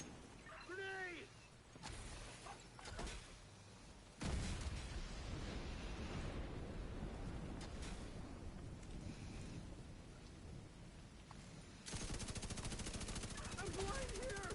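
Grenade blast and gunfire in the Division 2 video game, starting with a sharp burst and then a sustained rumbling wash of explosion and rapid shots, loud and near, with speech in the clip.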